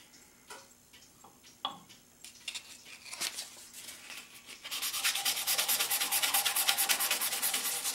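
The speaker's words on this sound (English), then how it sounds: "Let's see if I can't ream it out just a little bit more." A pen part is reamed out by hand, with scattered small clicks and scrapes first, then a fast, continuous rasping twist that grows louder toward the end, close up and with no talk.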